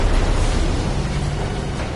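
Fireworks bursting in a shooter video game with bounties and relics, a continuous loud rumbling wash of booms and crackle that fills the whole stretch without letup.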